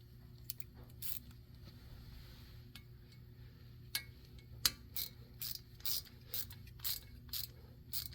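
A bolt is threaded back into the ABS sensor on a 2006 Ford F-150, heard as faint, close ratchet clicks and light metallic ticks in short irregular bursts over a low background hum.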